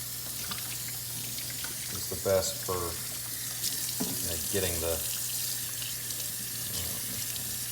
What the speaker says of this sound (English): So I'm going to run some cold water over it.